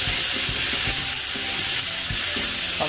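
Pork belly sizzles and hisses in a frying pan as it is stir-fried Chinese-style, with rhythmic scraping stirs and clatters over the continuous loud frying noise.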